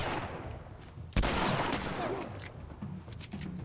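Shotgun in The Last of Us video game, a single sharp blast with a short decaying tail over low background rumble, fairly faint overall.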